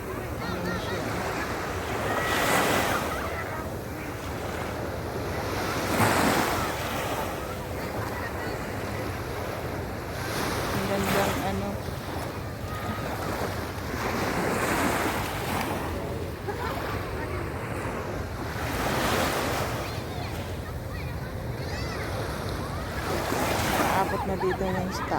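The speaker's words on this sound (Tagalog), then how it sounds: "Ayan ang alon." Ocean surf at night in Fahaheel, Kuwait, rolls in steadily with periodic swells of breaking waves, a constant wash of water noise and some wind buffeting the microphone.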